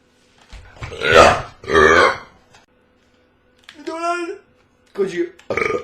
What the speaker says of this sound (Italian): Arrivano in ritardo i rutti.